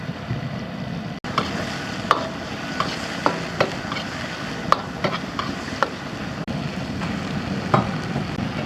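Pork, garlic and tomato stir-fried in a wok, with a steady sizzle and repeated scraping clicks of the spatula against the metal, sounding close and continuous with no voices.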